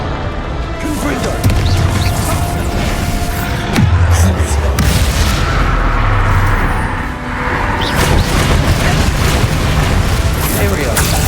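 Booming blast of the Confringo fire spell in Hogwarts Legacy, loud and sustained amid continuous spell combat noise, with heavy low rumble and crackling debris over a dense battle soundscape.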